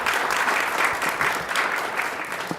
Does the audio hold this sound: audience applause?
yes